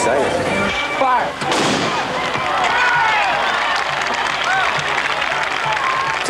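A starting cannon fires at the Marine Corps Marathon start, one sharp bang followed by a crowd of runners and spectators cheering, clapping and moving off, with voices mixed into the noise.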